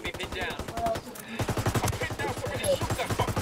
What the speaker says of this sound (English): I'm shooting at him, Mo.